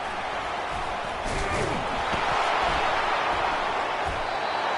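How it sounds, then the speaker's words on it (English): A Texas football stadium crowd roars steadily to rally its defense near the red zone, a dense, loud, continuous wash of distant cheering with a play-by-play commentator talking over it throughout. "It is getting loud as this crowd tries to help its defense"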